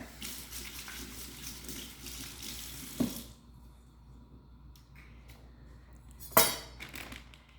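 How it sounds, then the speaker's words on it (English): Water runs steadily from a kitchen tap for a few seconds as hands are washed, then stops, followed by a couple of sharp clinks and a quieter room. "I'm going to wash my hands real quick."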